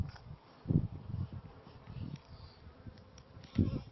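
Honey bees hum and buzz inside a traditional log beehive, a steady low drone with louder swells as bees pass close.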